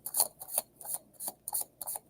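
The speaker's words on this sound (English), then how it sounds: "Okay, one more shuffle." Quick papery riffles and snaps repeat in short bursts, tarot cards being shuffled close up with brief pauses between each pass.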